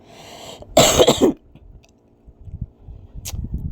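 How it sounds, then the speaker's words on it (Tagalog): A burst of harsh coughing, loud and close, lasting about half a second, followed by quiet shuffling and soft handling noises. "bumabalik yung aking ubo guys"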